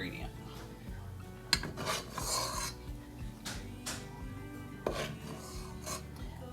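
A utensil scrapes and rasps against a metal soup pot while scooping out cooked bacon, with irregular rubbing strokes and occasional sharp clinks, fairly quiet and close, no talk.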